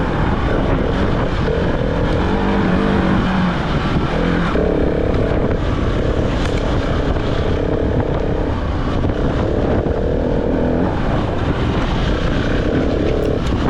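A KTM 1390 Adventure pre-production motorcycle ridden on off-road trails at Red Bull Romaniacs, its engine droning loud and continuous with shifting revs throughout, close by and without talk.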